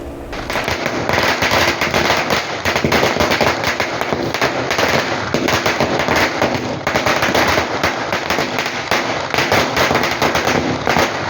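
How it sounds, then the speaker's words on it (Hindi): Fireworks and firecrackers going off at a village celebration in India, a dense, loud, continuous crackling barrage of rapid pops and bangs for the whole stretch. "चंपाई सोरेन के गांव में जमकर आतिशबाजी हुई।"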